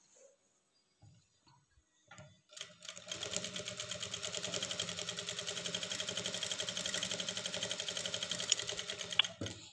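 A sewing machine stitching a lined blouse runs in a fast, steady mechanical rattle, close and loud, for several seconds after a few quiet handling taps at the start.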